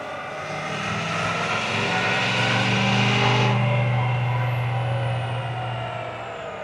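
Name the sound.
L5P Duramax diesel truck engine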